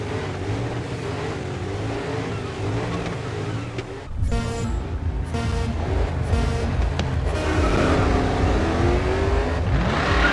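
Race cars in the video game Grid 2 roar along the track, with steady engine drone shifting to louder, higher revving and acceleration as several cars run close together, with no talk.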